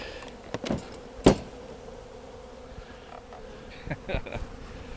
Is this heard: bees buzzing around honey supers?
yes